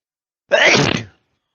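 A single loud, close sneeze, a sharp burst lasting about half a second, with silence before and after.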